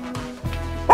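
A small dog gives a couple of short yipping barks, close and loud, with a whimpering tone before a sharper final bark.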